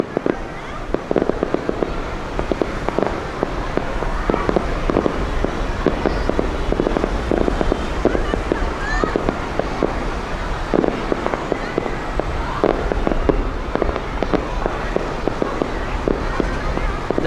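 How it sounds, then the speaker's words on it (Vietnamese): Fireworks for the Lunar New Year's Eve display in Chau Doc city, An Giang, crackle and pop in dense, continuous bursts for the whole stretch, with crowd voices mixed underneath. "Đây là bắn pháo bông thành phố Châu Đốc 2018."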